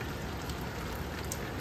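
Morning rain falls steadily on a coastal fishing village, a dense, even hiss that holds unchanged throughout with no voices.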